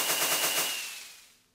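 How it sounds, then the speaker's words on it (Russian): A dense, rapid crackle of fireworks in Minecraft bursting, fizzling and fading away over a second and a half. "Салют, в этот раз побольше, чем на твой день рождения."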